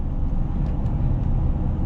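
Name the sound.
2002 Chevrolet Silverado 2500HD truck driving on cruise control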